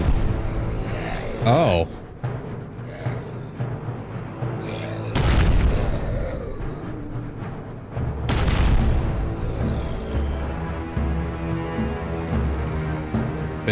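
Heavy booming cannon fire in a WW1 zombie rail shooter video game, several loud blasts spaced seconds apart with rumbling tails, alongside game music and voices talking.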